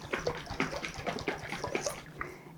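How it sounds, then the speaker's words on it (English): Honey mustard dressing sloshes inside a lidded mason jar shaken vigorously by hand, a close run of rhythmic wet sloshing bursts heard alone. "put on the lid on this mason jar and shake vigorously"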